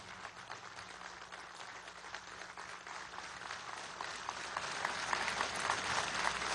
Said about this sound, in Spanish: Pido el aplauso del pueblo para estos brillantes oficiales de la promoción